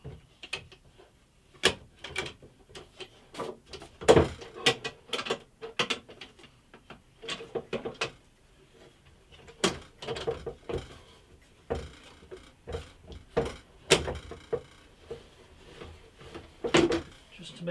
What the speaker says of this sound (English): Fit this drawer on upside down.